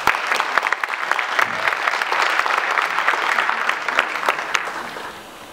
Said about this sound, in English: please give a round of applause, is Violet DeMoss.